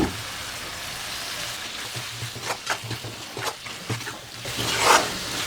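Drumstick pieces and egg sauté in a pan with turmeric, curry masala and chili powder, making a soft, close sizzle with scattered crackles and scraping stirs that grow busier toward the end.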